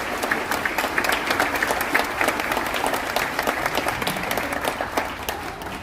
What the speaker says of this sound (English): please a big round of applause for Christian from the Royal Caribbean Orchestra performing taps